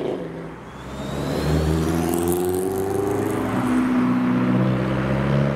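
A Mazda RX-7 and a 1.8 turbo-swapped VW Lupo pull away from a car show, their engines rising in pitch as they accelerate past at moderate distance, steady and loud throughout.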